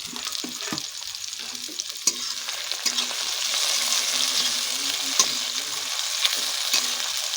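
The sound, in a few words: chopped tomatoes frying in a pan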